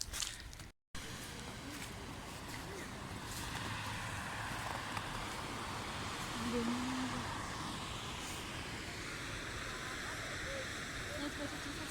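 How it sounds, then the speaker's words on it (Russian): Lechfall waterfall near Füssen in Bavaria pours in a steady broadband roar, loud and continuous close by, with faint voices and a brief dropout near the start. "Водопад называется Лехфаль."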